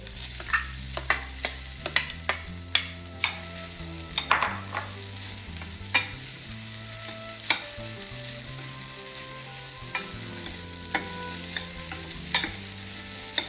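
Grated coconut fries in oil in a pan for coconut laddu, with a steady soft sizzle broken by frequent sharp scrapes and clinks of a spoon stirring against the pan.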